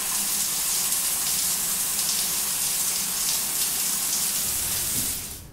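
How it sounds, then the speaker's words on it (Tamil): A salon shower gives a steady rushing hiss of running water, loud and close, with a low hum beneath that drops out before the flow tapers off at the very end. "அந்த ஷவர் ஆன் பண்ணு"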